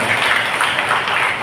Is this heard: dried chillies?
no